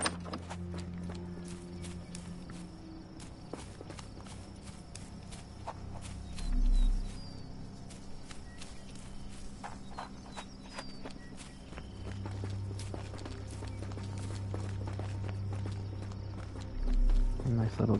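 Horse hooves clip-clop at an unhurried pace in Sherlock Holmes The Awakened, the game audio faint and steady under a quiet ambient backdrop.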